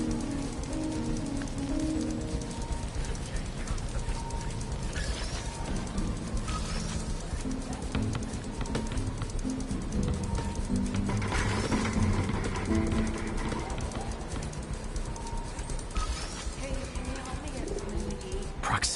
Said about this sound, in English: This pigeon's strong.